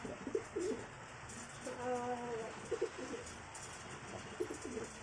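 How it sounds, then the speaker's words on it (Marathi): Domestic pigeons, including a racing pigeon, coo in soft, low repeated phrases, a few close calls spread across the clip over a quiet hum. "हा पण पकडलेला कबूतर आहे"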